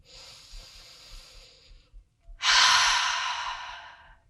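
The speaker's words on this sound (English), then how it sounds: "Let's take a full breath in and out" A deep breath during a yoga workout: a long, soft airy inhale tapers off, then after a short pause a louder, fuller exhale rushes out close to the mic and slowly fades.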